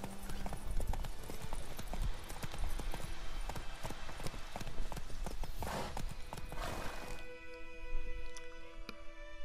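Roach the horse gallops in The Witcher 3, a steady run of hoof clip-clops with close, constant thuds over a dense, noisy backdrop, easing toward the end.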